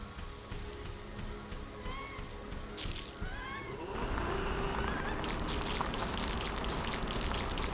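Rainfall in the video game The Riftbreaker, a continuous wash of drops that grows heavier and louder partway through, with a few faint tonal chirps over it and no speech.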